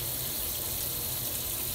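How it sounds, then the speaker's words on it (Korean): Tap water runs from a kitchen faucet into a sink, a steady, fairly quiet rushing hiss that continues unbroken with no talking. "수돗물"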